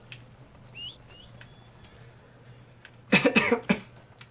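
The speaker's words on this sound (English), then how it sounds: "Sorry, I cough a lot when I eat." A person coughs several times in a tight, harsh burst while eating, fairly close and loud, after a faint quiet stretch with a few soft chirps in the background.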